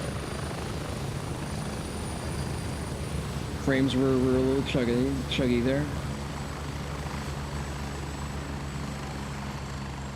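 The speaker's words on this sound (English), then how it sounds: "It's my only gripe with base camp is that the fucking choppers overhead are just constant." Steady, loud helicopter rotor drone from a chopper circling over a video game base camp, continuous through the whole stretch, with a voice speaking briefly over it.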